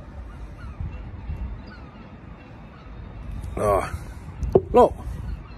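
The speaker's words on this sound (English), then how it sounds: "why do seagulls get excited when I'm around?" Seagulls calling at a harbour, a few loud nearby squawks arriving in two short bursts over a steady outdoor background, with a person speaking briefly.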